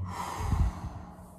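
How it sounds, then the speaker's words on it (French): A slow, deep breath drawn in and let out during a calm spring awakening meditation, soft and close with a gentle rush of air peaking midway, no talking. "Prends une bonne respiration."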